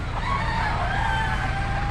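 Dark Brahma chickens at an Amish animal auction, with a crowing call drawn out over a steady barnyard din of many birds, the whole space loud and busy.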